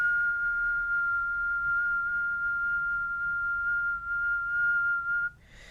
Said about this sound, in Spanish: en este caso voy a silbar para que sea un poco más rápido.